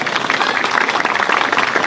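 Crowd applause at an Independence Day parade in Yatiaty, Paraguay, a steady dense patter of clapping filling the short stretch without pause.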